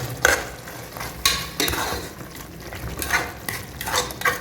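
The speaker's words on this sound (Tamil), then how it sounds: "கொதிக்குது நல்லா." Mutton gravy with tomato bubbles and sizzles in a pan while a utensil scrapes and stirs in irregular strokes, close by and moderately loud.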